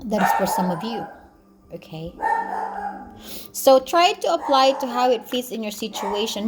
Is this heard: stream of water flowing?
no